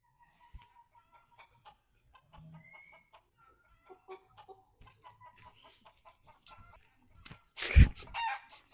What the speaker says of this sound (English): Hey, no, the chicken's coming.